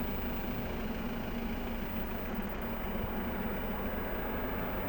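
A 2015 Volvo XC60 with the newer-generation 2.0 D4 Euro 6 diesel engine idles with a steady, even low hum and a faint tonal drone, close and alone, with no talk.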